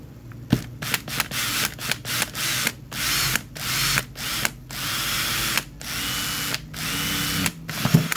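A power drill bores a hole for a videoke machine's LED push button in short bursts, its whining, grinding buzz starting and stopping repeatedly, close and fairly loud, with no voices.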